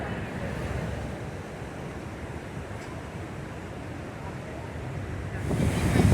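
Niagara Falls gives a broad, steady roar of rushing water, heavy with wind buffeting the microphone. The sound is loud and continuous and swells a little near the end, with no one talking over it.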